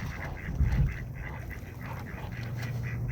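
Ducks on a pond quack and chatter repeatedly while being fed, a close, busy series of nasal calls over steady outdoor background noise.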